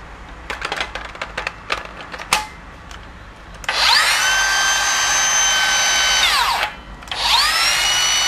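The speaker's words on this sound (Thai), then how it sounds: "สำหรับไอ้ตัวนี้ก็เป็นเลื่อยวงเดือนปกติเนาะ" A Makita 40V circular saw with soft start and electric brake spins up with a loud whine, runs steadily for a few seconds, cuts off, then starts again, after some clicking and handling noises.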